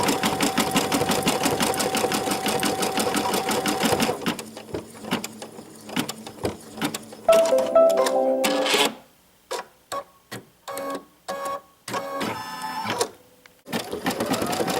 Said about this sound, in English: Now I'm stitching the placement line for the turkey body fabric